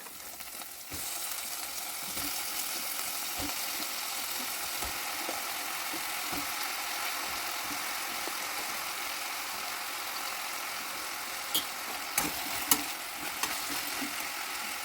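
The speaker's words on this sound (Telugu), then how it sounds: "ఉల్లిపాయ ముక్కలు కాస్త వేగాక వంకాయ ముక్కలు వేసేసుకోవాలి" Eggplant pieces and onions fry in a pan with a steady, dense sizzle that fills the whole stretch, broken by a few faint knocks and stirs toward the end.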